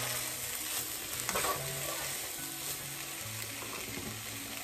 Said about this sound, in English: Start mixing it all together.